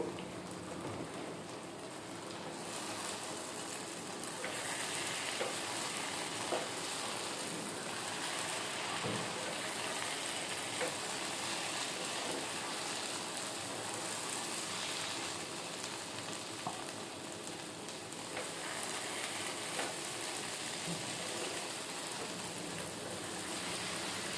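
Soya chunks (meal maker) frying in a pan with chilli powder, salt and turmeric, giving a steady, dense sizzle that holds at an even level throughout with no voices.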